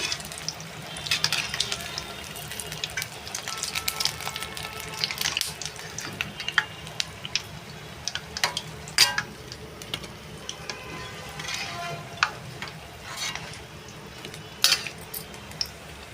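Raw banana bajji frying in hot oil, a steady crackling sizzle with scattered sharp pops and occasional clinks of a utensil, close and fairly quiet.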